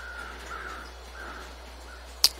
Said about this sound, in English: The birds are flying.